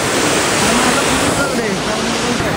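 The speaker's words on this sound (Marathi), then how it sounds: "पाण्याचा आवाज घ्या." Sea water at Harne port beach near Dapoli rushes in a loud, steady, unbroken roar close to the microphone, with faint voices mixed in.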